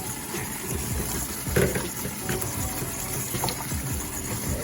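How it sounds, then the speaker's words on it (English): Running water washing okra for a Haitian goat and okra sauce, a steady faint gushing flow from a tap with soft splashes as the pods are handled, continuous and without talk. "Now I'm gonna clean the okra now. I'm gonna wash it in the water."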